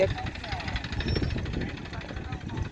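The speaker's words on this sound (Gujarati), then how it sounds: "આજે ને વહેલું હવારમાં ટ્રેક્ટર ચાલુ કરી દીધું" Tractor engine running early in the morning at a farm home, a close, pulsing mechanical chug with knocking rhythm under ongoing speech.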